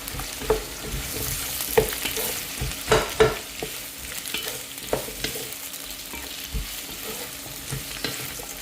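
Carrot and radish sautéing in a pan for sambar, a continuous sizzle broken by repeated scraping stirs and clacks of a spoon against the pan, no talking.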